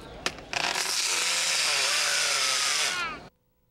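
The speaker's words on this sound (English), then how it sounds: "Show me that vibrator one more time, Ken." A Makita 12-volt cordless vibrator tool starts up and runs with a loud, steady high-pitched buzzing whir for about three seconds before cutting off abruptly, with a brief click or two just before it spins up.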